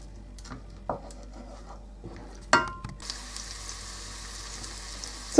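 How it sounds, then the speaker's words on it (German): Onions dropped into hot oil in a frying pan: a few light clicks and a sharp clatter, then a bright, steady sizzle takes over and keeps going close up. "ich habe etwas Öl in meiner Pfanne. Hinzu kommen die Zwiebeln. Die werden wir kurz anbraten."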